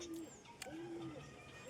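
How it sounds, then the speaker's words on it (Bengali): Two pigeons that have just flown down and landed give soft, low rolling coos, a couple of drawn-out calls close by with faint chirps and background hiss. "এই পায়রা দুটি এখনই উড়ে নামলো"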